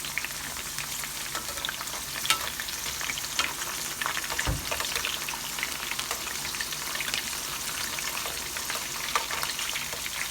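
Carrots frying in a pan of oil for beef afritada give a steady, close hiss of sizzling with faint crackles and one brief utensil clunk midway, and no voices.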